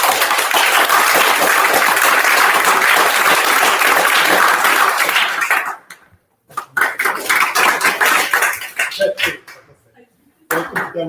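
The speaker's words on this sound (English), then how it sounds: "what's the loudest you lot can clap?" A Demo Night crowd in London clapping as loudly as it can, a thick roaring wave of applause that lasts several seconds, then breaks into scattered claps and cheers before one last burst.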